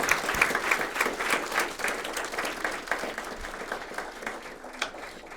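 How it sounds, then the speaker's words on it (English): A graduation audience gives a long, steady round of applause at a youth empowerment program ceremony. The dense clapping carries on evenly and fairly close for several seconds, with no speech over it. "I want to give you all a very big round of applause."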